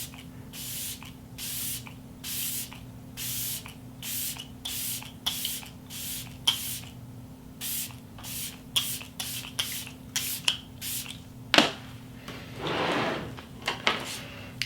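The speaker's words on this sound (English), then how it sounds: "I'm gonna go ahead and mist my face before I do like my mascara." Bursts of makeup setting spray misted onto a face, a rapid series of short pumped hisses repeating close up, followed by a longer soft rustling spray.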